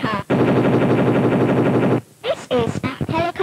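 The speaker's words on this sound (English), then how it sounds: "This is helicopter." A helicopter sounds as a loud, rapid rhythmic chopping pulse for about two seconds, then cuts off, followed by short voiced, warbling sounds.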